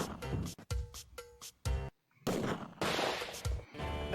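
Gunshots from a lightgun shooting game played in VR, target practice in a bar setting, several sharp bursts in an uneven rhythm with brief gaps and short stretches of silence, loud and close.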